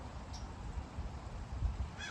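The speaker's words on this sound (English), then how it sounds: "That sounds like a crow." A crow caws outdoors, a few faint calls standing out briefly over low background rumble with no talking.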